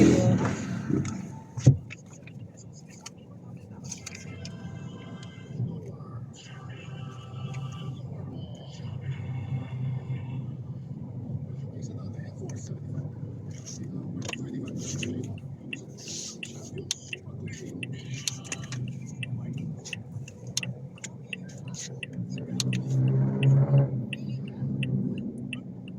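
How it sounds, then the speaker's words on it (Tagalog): Road traffic rumbles steadily in the background, with passing vehicles swelling and fading and a louder pass near the end, while people talk over it. "Traffic. Traffic."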